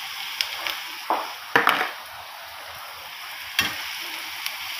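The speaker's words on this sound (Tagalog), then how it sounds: "After that, ilagay ko na tong sili. Lutuin muna natin itong mga gulay." Chili and vegetables stir-fry in a pan for sisig made from leftover crispy pata, with a soft steady sizzle broken by several sharp scraping stirs and clinks of a utensil, close and without talk.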